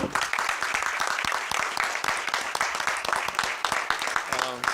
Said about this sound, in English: let's give applause to these guys